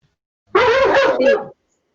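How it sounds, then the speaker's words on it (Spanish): A single dog bark, loud and close, about one second long with a brief second push near its end, set against silence. "Mi perro empezó a ladrar."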